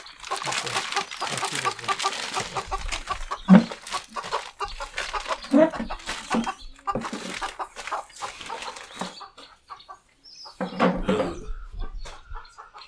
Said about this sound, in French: Je suis venu avec la poule là.